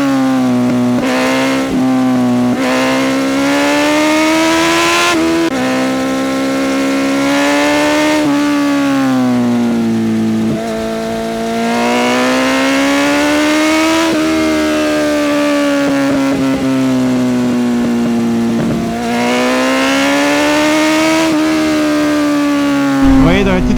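A Yamaha Fazer 600 S motorcycle engine drones steadily throughout on winding back roads, its pitch rising and falling as the rider shifts and accelerates, loud and close with wind rush.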